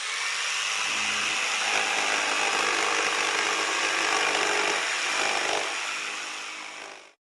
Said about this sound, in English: you have a circular saw, and this one makes this sound.